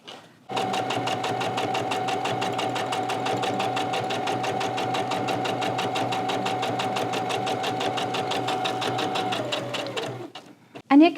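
A Husqvarna Viking Onyx 30 sewing machine top stitching jeans runs in a fast, steady mechanical chatter of rapid needle strokes for about ten seconds, then stops abruptly.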